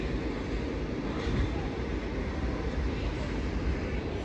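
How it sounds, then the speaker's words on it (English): A freight train departs Exeter St Davids station, heard as a steady, heavy low rumble that stays close and constant throughout without clear breaks. "So as that freight train goes out"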